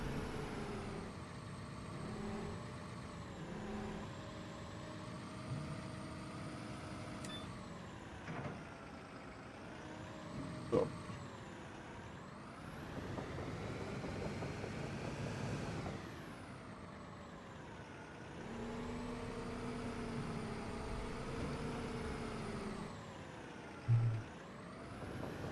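A heavy construction vehicle in the Bau-Simulator video game drives with a steady, droning engine that rises and falls, punctuated by a couple of brief hisses and clunks.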